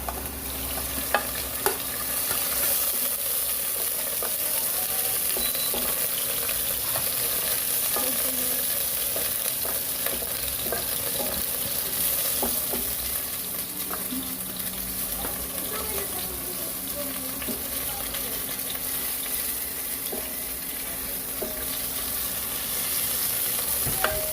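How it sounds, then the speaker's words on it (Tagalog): Onion and tomato sautéed in a pan as the base for pork-rib sinigang, a steady loud sizzle running throughout with faint scattered ticks of stirring. "At igisa na ang igisa na ang sibuyas. And kamatis."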